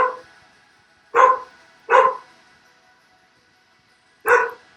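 A pet dog named Lady barks three times alone, the first two barks close together and a third after a pause, each one loud and sharp.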